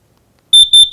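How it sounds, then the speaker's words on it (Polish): A carbon monoxide detector sounds its alarm after silence: loud, piercing high electronic beeps in a rapid regular pulse, close and alone. "A ten dźwięk, który tu słyszymy, on będzie tak długo pikał, dopóki nie zareagujemy."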